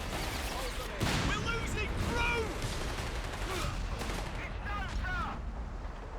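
Dense wartime battle from Company of Heroes 3 in a 2v2 match, with repeated booming artillery and gunfire volleys rolling continuously at high level, mixed with whistling shell sounds and a voice talking over the din.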